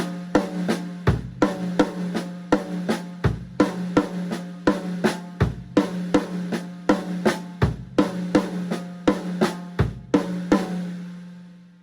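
A drum kit plays a repeated linear triplet phrase, crisp, close strikes in a steady syncopated pattern with a sustained low tone underneath, continuing evenly throughout without talk.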